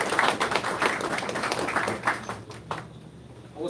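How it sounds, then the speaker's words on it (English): A crowd applauds at the inauguration of Masjid Noor mosque in Belize City, a dense, sustained patter of many hands clapping that stays fairly even before thinning slightly near the end. "a rousing round of applause"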